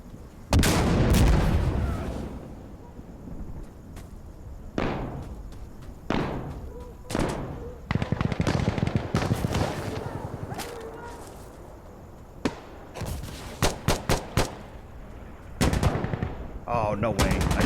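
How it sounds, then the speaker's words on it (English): Gunfire in the shooter Insurgency Sandstorm: sharp, loud rifle and machine-gun bursts in irregular clusters, some rapid strings of shots and heavy thuds, with people talking between volleys. "I totally shot that guy, man."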